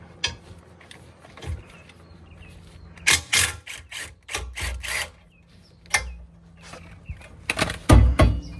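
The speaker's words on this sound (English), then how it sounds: "If we can't do it with the impact, we're gonna go ahead and do it with a socket." Socket wrench working loose the shock bolts on a 2018-2025 Honda Accord, giving bursts of rubbing, clicking ratchet strokes and metal-on-metal scraping that come close and fairly loud, with pauses between the strokes.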